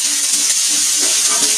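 Onions, three whole ones, dropped into a hot pan with ginger and garlic for lechon paksiw, giving a steady, close sizzling hiss that continues evenly without a break.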